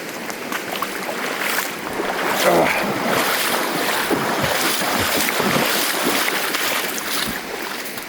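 Water splashes and rushes as a hiker wades through a creek on a wilderness day-hike trail, a close, continuous wet churning mixed with wind buffeting the microphone.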